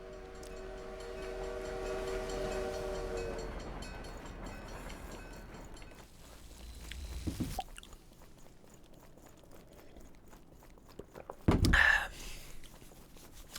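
A train in the video game The Last Hero of Nostalgia rumbles past under a sustained horn-like tone, then a burst of loud clattering near the end with a sharp screeching squeal, all without speech.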